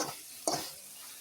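A grandmother sautés three dried red chilies, six onions and six garlic cloves in a pan, giving a steady soft sizzle with a sharper stirring scrape midway.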